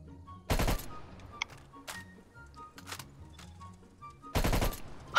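Gunfire in Call of Duty Black Ops Cold War, two sharp bursts of rapid automatic fire, the first near the start and the second near the end, with scattered fainter single shots and game sounds between.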